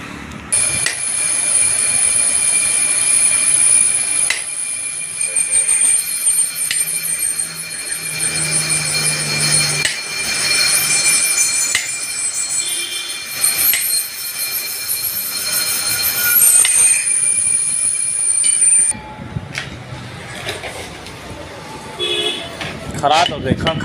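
A Maruti Suzuki Eeco is driven while its differential whines, a high steady tone riding over continuous road and running noise that drops away near the end.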